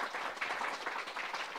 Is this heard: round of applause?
yes